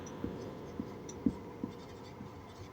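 Writing on a board during an accounting lesson comes as a few soft, close taps and short scratchy strokes spaced irregularly over quiet room tone, with no talking.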